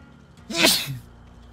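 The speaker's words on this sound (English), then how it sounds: "I don't know why I'm sneezing so much." A single loud human sneeze indoors during a casual livestream, one sharp burst standing alone against a quiet room.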